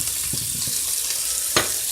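Mushrooms fry in a pan alongside steak, giving a steady close sizzle with a few light stirring clicks and one sharper crackle near the end, with no voices.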